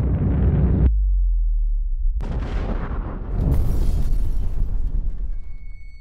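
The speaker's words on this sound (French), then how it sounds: "l'explosion va directement déchirer la nuit" Explosion on the Deepwater Horizon offshore oil platform, a loud roaring blast that cuts off abruptly, then a second heavy rumbling burst builds and keeps churning, with a faint high alarm-like tone late on.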